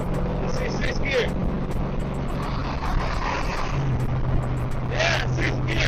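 A Camaro with a T56 manual transmission pulls in sixth gear, its engine droning steadily with road and wind roar inside the car, while people talk over it.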